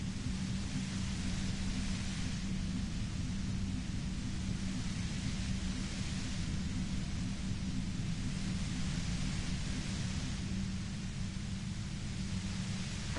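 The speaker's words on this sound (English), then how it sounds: "You hear through the white noise. It's especially bad suddenly." A steady wash of white noise from the Disco Elysium game fills the clip, a constant low rumble under a broad hiss that swells and fades gently, with no voices over it.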